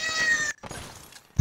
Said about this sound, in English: Your cat is getting angry.